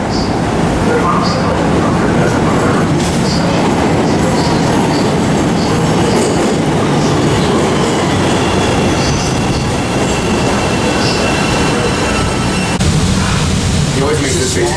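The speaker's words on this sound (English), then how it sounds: "In CTA stations on platforms for the trains" A Chicago CTA train rumbles loudly at a station platform, wheels clattering and squealing steadily throughout, with people talking over the din.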